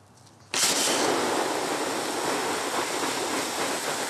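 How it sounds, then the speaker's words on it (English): Steam hisses loudly as water is sprayed onto hot charcoal being quenched for biochar, a sudden broad rushing burst that starts after a quiet half second and then holds steady and close. "So you can hear that. That's the steam being created."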